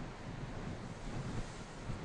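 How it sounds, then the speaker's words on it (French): Strong wind sweeps over a rough, agitated sea on the Normandy coast, a steady broadband roar of surf and gusts buffeting the microphone, continuous and without voices. "le vent souffle fort en Normandie"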